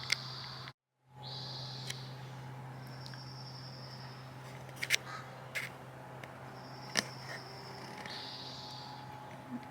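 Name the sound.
birds singing outdoors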